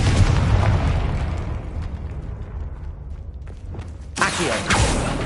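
A Confringo fire spell bursts in Hogwarts Legacy with a loud booming blast that rumbles and fades, followed by a second sharp burst of crackling impact.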